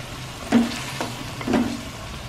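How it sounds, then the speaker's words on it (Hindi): A spoon scrapes through chicken in chili garlic sauce and tomato ketchup in a pan with two soft stirring strokes over a gentle background sizzle. "chilli garlic sauce, tomato ketchup और इसको मिक्स करते हैं"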